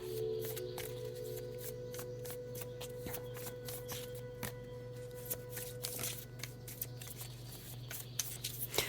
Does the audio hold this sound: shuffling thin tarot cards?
yes